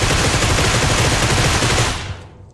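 A dense, continuous burst of rapid gunfire comes from a video game fight against a vampire king. It stays loud and steady for about two seconds, then cuts off and fades.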